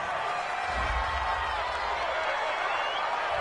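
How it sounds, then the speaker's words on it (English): Home stadium crowd roaring steadily in an American football game after a penalty flag on third down, a broad, sustained cheer of approval throughout. "This home crowd, they're happy with that call."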